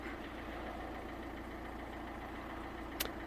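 A Peugeot 207+ engine idles steadily just after starting, a low continuous hum with light vibration and one brief click near the end, no voices.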